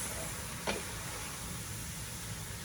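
Mushrooms sizzle steadily in a pan while cooking down for a mushroom cream sauce, a continuous close hiss with one brief louder crackle near the start and no voices.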